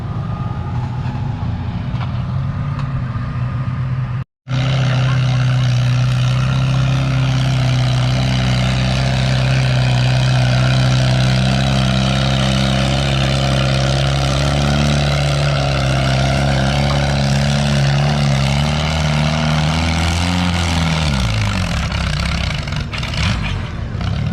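Pulling tractor at a fall tractor pull in Lynden, dragging a sled through dirt: a loud, steady engine roar that holds for about twenty seconds after a brief gap, then drops in pitch as the sled bites and the power bogs down.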